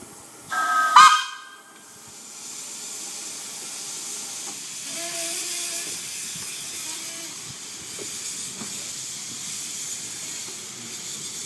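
Haigh Hall's steam engine 'Katie' pulls carriages out of a station on the Kirklees Light Railway in Yorkshire. A short, sharp whistle sounds first, then a steady background hiss of steam with faint mechanical knocks as the engine moves off.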